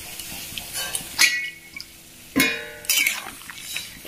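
Stirring flat beans with salt and turmeric in a metal pot on a gas stove, a few sharp scraping clinks of a spoon against the pot separated by short pauses, close and fairly quiet.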